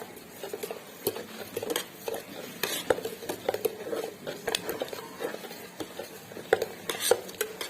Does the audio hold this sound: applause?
no